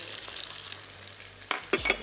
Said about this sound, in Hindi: ये तमाम चीज़ें हमने इसमें ऐड करके मसाले को हम अच्छा सा भून लेंगे